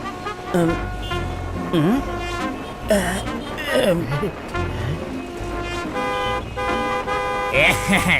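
A cartoon car horn honks repeatedly during a traffic jam scene in a Honey Bunny animated show. The toots are loud, tonal and insistent, over a busy layer of cartoon sound and music.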